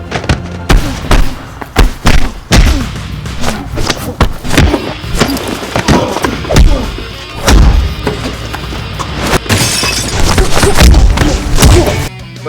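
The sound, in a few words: staged fight scene punches, kicks and body shots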